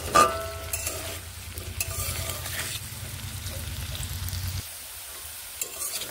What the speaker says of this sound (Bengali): আলুগুলোকে বেশ একটু টাইম দিয়ে ভেজে নিতে হবে